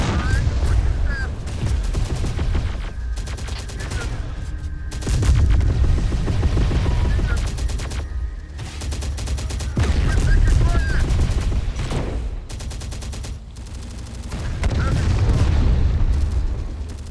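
Heavy gunfire crackles through a firefight in the real-time tactics game Terminator Dark Fate - Defiance, with dense volleys and booming blasts swelling and easing in waves, while radio-style voices call out over the fighting.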